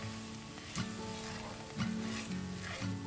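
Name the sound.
mushrooms, garlic and herbs sizzling in pan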